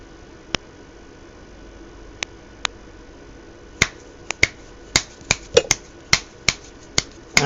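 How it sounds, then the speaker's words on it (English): Finger snaps near a microphone on an ESP32 electronics bench, a few scattered sharp clicks at first, then a quicker run of crisp snaps in a rough rhythm over faint background hum. "I have to snap my fingers in the hope that that works"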